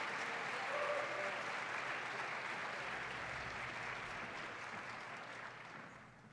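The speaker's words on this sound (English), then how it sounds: "Please join me in giving these accomplished photographers a round of applause" Sustained applause from a ceremony audience honoring accomplished photographers at an award and degree ceremony: a steady, even wash of many hands clapping that holds, then gradually fades toward the end.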